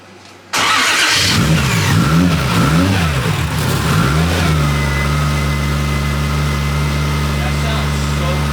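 A built Toyota 1JZ engine swapped into a Nissan 350Z cranks and fires up for the first time, revving in several rising and falling sweeps before settling into a loud, steady idle close by, with people talking over it.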